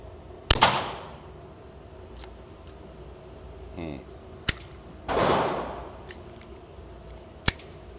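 Suppressed Glock 44 .22 pistol firing Remington rounds at an outdoor range: a handful of sharp, muffled cracks spaced a few seconds apart, two followed by a trailing whoosh of echo.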